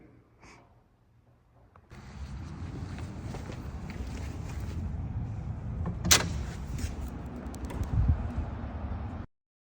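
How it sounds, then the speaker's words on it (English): A building door, freshly adjusted, swings and closes with a rustling, shuffling stretch of movement, a sharp click near the middle and a soft knock toward the end before it falls silent. "Now getting this done to make this door close nice and smoothly."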